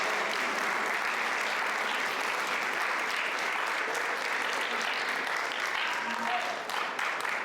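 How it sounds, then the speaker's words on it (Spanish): Loud sustained audience applause after a lecture on the evolution of piano keyboard mechanisms, a dense even roar of clapping filling the room without pause and dipping only briefly near the end. "Otro fuerte aplauso"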